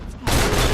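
A single sharp gunshot in a Captain America film fight scene between Bucky and Steve, a sudden loud blast after a quieter lead-in, sustained with a broad rumbling tail.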